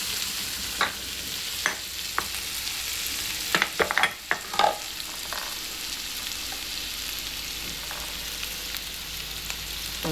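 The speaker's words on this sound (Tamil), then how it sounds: "இப்போ கோவக்காய் நல்லா வதங்கிடுச்சு" Ivy gourd sautés in a pan over medium flame, a steady soft sizzle broken by a handful of clinking, scraping stirs, close and with no voices.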